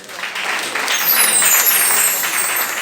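A church congregation at a sermon breaks into sustained applause, a dense wash of clapping that swells and holds for several seconds without voices rising above it.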